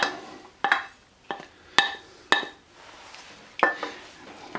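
A utensil scrapes and knocks plant-based breakfast taco filling out of a pan onto a tray, producing sparse metallic clinks and clanks at irregular intervals over a quiet kitchen background.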